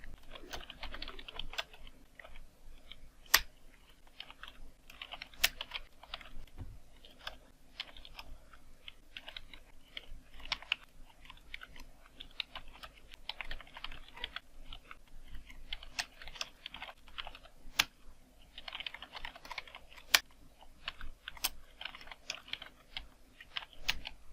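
Steady typing on a computer keyboard, rapid clicking keystrokes running continuously with brief pauses, close and fairly quiet, with no voices.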